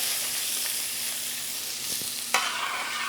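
Half an onion sizzles in grapeseed oil and leftover butter in a Lodge cast iron skillet, a steady close hiss with a brief sharper crackle near the end and no talking.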